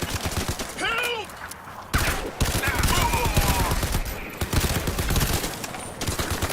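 Turret and weapon fire in the shooter game Crysis 3 Remastered, bursts of rapid automatic shots and sharp cracks repeating throughout, mixed with game sound effects and a player's voice.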